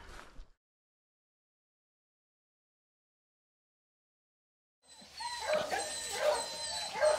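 Hunting dogs on a rabbit hunt barking and yipping, a brief faint sound at the start, then silence, then a burst of excited barks and whimpers at moderate distance.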